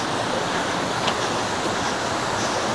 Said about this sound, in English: There's a river there,